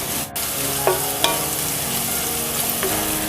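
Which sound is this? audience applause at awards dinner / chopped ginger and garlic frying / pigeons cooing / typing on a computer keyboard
chopped ginger and garlic frying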